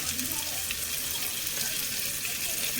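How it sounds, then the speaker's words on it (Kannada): Prawns go into a pan of frying tomatoes for prawn biryani, raising a continuous loud sizzle and hiss with light stirring noise underneath. "ಈಗ ಜಿಂಗಾ ಹಾಕೋಣ ಬನ್ನಿ ಫ್ರೆಂಡ್."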